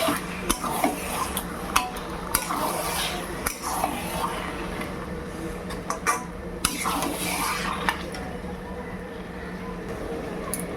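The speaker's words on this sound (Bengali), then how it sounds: "তার আগে একটু কষিয়ে নিই, নাহলে লেগে যেতে পারে।" Mutton being sautéed and stirred in a pot for a home-style curry, with a steady run of metal spoon scrapes and clinks against the pot and a low cooking hiss throughout.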